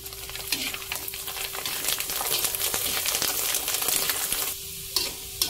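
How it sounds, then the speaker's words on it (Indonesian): Macaroni fries in hot oil in a pan, a steady bright sizzle with occasional scrape-like stirring sounds, close and continuous, easing off briefly near the end. "Kita goreng semua makaroninya hingga habis."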